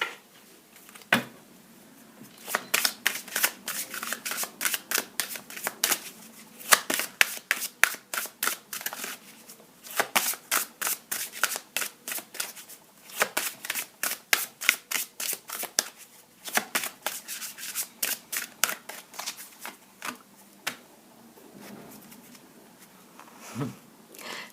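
Playing cards riffle and flick in rapid bursts of crisp, close snaps, with short pauses between shuffles and draws, all fairly quiet with no talk.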